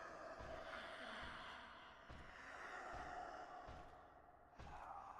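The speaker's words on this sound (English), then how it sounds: "Is that breathing noise the ghosts?" Ghostly breathing from Dark Souls, faint, slow gasping breaths repeating every second or so with soft thuds, heard alone without talk.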